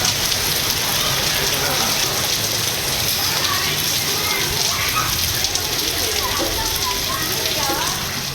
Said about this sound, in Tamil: திருச்சி மாநகர பகுதிகளில் மிதமான மழை பெய்த நிலையில் குழந்தைகள் மழையில் ஆட்டம் போட்டு விளையாடினர்.